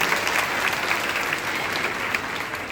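A village audience claps together to welcome a speaker at a gathering for girls and women, with dense, steady applause filling the whole stretch and no voices rising above it.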